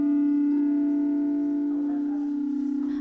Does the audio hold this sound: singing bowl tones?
yes